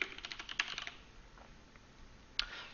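Keystrokes on a computer keyboard while a search term is typed into a web console's search bar, a short burst of quick clicks followed by a pause and one more isolated tap, faint and close with no talking.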